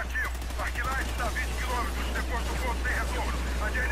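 Rapid bursts of Call of Duty gunfire crackle steadily throughout, with a constant low hum underneath and voices chattering over the shots.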